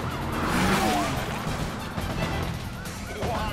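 A wailing police siren from Need for Speed: Carbon sweeps up and down amid roaring engines and chaotic crashes in a busy chase scene.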